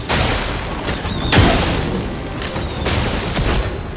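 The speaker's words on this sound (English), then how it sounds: "I have no idea if Sakapat explosion is going to be good or not" Sakapatate's explosion skill in Clair Obscur: Expedition 33 sets off a loud booming blast followed by a burst of rumbling crashes and a second heavy impact, with no talking over it.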